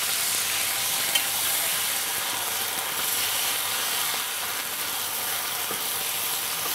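Ginger garlic paste frying in a pan, a dense, steady sizzle heard up close, with occasional faint scrapes of stirring beneath it and no talking.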